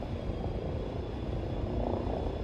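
A spaceship engine in the game Elite Dangerous makes a steady, dense, droning roar with a deep rumble underneath, continuous and even throughout, with no talk.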